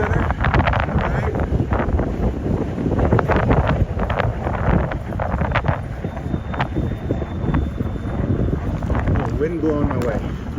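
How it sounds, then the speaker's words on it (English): Gusty wind roars and buffets the microphone of a fat bike rider pedaling through snow in Minneapolis in December, a loud rumbling rush that rises and falls throughout, with someone speaking intermittently over it. "Oh, wind blowing my way."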